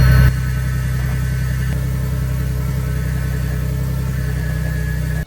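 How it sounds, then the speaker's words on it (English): A Jeep Wrangler JK on 40-inch tires and a stock steering pump runs at a steady loud idle with a low engine drone, while the steering strains against the tires, ending in an abrupt cutoff. "the stock steering pump doesn't give enough pressure to the steering box to turn those 40-inch tires"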